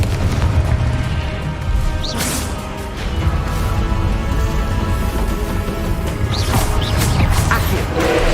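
Repeated Confringo blasting spell explosions in Hogwarts Legacy, loud booms and crashes with whooshing swishes recurring every few seconds over a steady dense background of combat noise.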